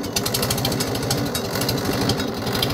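A Farmall 350 tractor, set up for bush hogging with a Woods 208 cutter, runs with a loud, close, rapid thudding engine beat that stays steady throughout.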